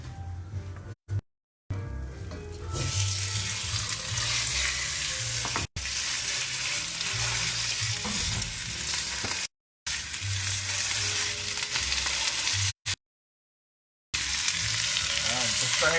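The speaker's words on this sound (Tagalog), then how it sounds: "Tapos, tutustahin lang natin yung pork giniling." Ground pork toasting in a hot oiled frying pan for pancit palabok, with a steady loud sizzle and frying crackle broken by a few short pauses as it is stirred.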